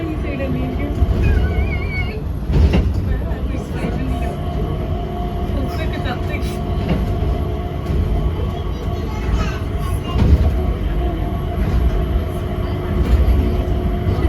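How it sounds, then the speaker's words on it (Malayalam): Steady low rumbling of an airport sky train running from Terminal 3 to Terminal 2, with a constant droning hum and faint voices now and then in the background. "3-ൽ നിന്ന് T2ലേക്കുള്ള സ്കൈ ട്രെയിൻ എടുത്തേക്കുവാണ്."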